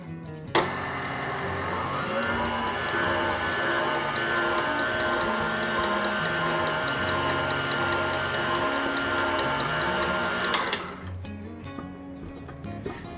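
An electric mixer beats Runeberg torte batter in a bowl, a steady continuous whirring hum that starts with a sharp knock and ends abruptly after about ten seconds, then quieter handling.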